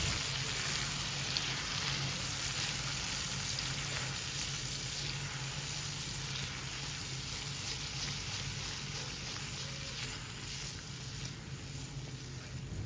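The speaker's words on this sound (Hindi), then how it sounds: "और अब अच्छे से इसको हम दही को इसमें मिक्स करेंगे" Whisked yogurt is stirred into qeema in a pan over a low flame, giving a quiet, even, continuous sizzle with soft scraping, close by and without voices.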